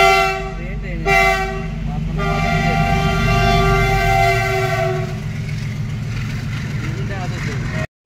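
Two trains passing together at a busy railway level crossing near Ambari, a close, loud rumble of wagons with repeated horn blasts, steady throughout before cutting off at the end.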